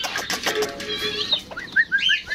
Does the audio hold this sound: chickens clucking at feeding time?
yes